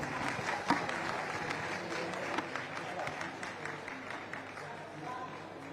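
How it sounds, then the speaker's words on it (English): An audience at a COP27 conference session applauds, with scattered claps and crowd noise that gradually thin out toward the end. "Give them a round of applause."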